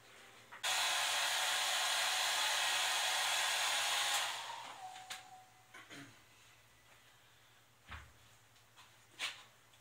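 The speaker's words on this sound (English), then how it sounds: "quick blast with the hairdryer, fantastic little tool, helps speed things up" A hair dryer blows with a loud, steady whoosh for about four seconds while basing Warhammer 40K miniatures, then winds down, followed by a few faint knocks and clicks.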